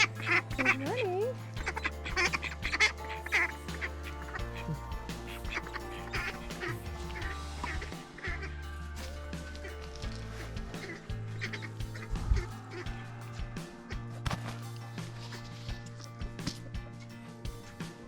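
Ducks quack repeatedly at close range, with other poultry and a person talking in a quiet background.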